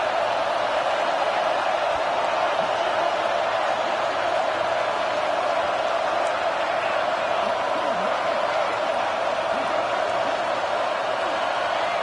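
Stadium crowd noise in an NCAA college football video game, a constant broad roar rolling on evenly in the background as a voice talks over it.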